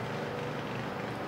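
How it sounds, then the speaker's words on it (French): A lawn mower engine drones steadily at a distance, a low, even motor hum. "Non, c'est une tondeuse."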